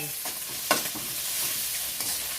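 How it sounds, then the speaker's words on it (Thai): Pork frying in a pan for fried rice sizzles with a steady hiss, broken by a few sharp scrapes and stirs, fairly faint and without voices. "แล้วยาก็จะใส่เนื้อหมูลงไป"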